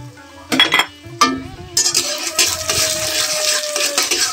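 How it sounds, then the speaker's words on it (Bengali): Grass pea and chana dal are tipped into a cooking pan with hing. A few clattering pours and clinks of a utensil give way to a steady, close sizzle as the lentils hit the hot oil. "এখানে দিয়ে দিচ্ছি দেখেন খেসারির ডাল আর ছানার ডাল"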